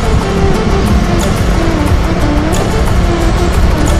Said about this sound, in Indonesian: truk besar.